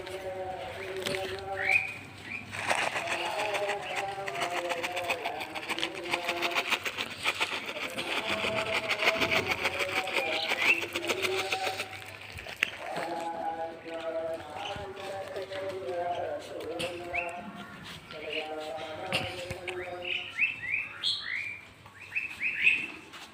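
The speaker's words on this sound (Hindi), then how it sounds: "ये हमारी चिड़िया बैठी हुई हैं, हम इन्हें भुजिया खिलाने की कोशिश कर रहे हैं।" Small birds chirp and tweet in quick repeated bursts while being fed bhujia, with clattering taps and a voice talking throughout.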